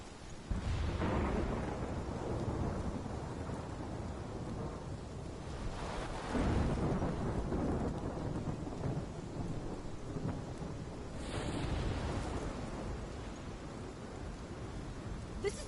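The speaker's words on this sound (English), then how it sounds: "This is my storm." Thunderstorm in the video game Life is Strange: heavy rain hissing continuously with deep rolling thunder swelling in three loud surges, no voices.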